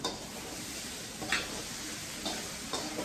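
Sliced potatoes sizzle and fry in a pan while being stirred, a steady crackling hiss with a few scraping clicks of the utensil against the pan, fairly close and alone.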